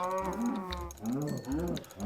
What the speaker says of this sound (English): No, it's a cow.